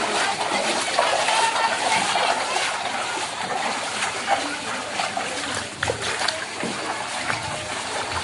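Dirty black gutter water pours through a narrow lane after the first rain of the season, a steady rushing and splashing flow with trickles, continuous and close, with faint voices in the background.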